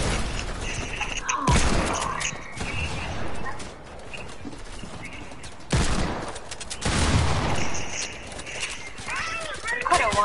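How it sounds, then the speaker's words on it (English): Compact SMGs fire in rapid bursts during an online video game match, dense crackling volleys rising and falling throughout, with people talking over the shooting. "there's two people spamming me with compact SMGs"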